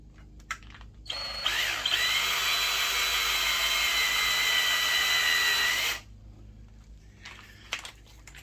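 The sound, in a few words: drilling through metal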